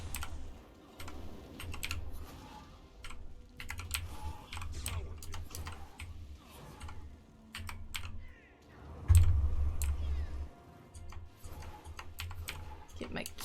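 Rapid, uneven typing on a computer keyboard during a Guild Wars 2 session, a close, continuous clatter of keys with occasional heavier bursts, while someone talks over it.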